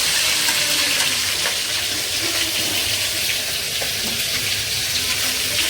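Fish frying in hot oil in a home kitchen gives a loud, dense, unbroken sizzle close by, with no stirring accents and no talk.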